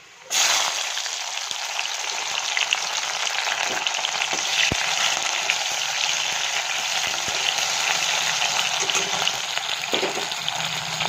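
Chopped tomatoes sizzle and crackle steadily in a hot pan for a chickpea curry, a loud continuous frying hiss from start to finish with faint stirring clinks and no talk.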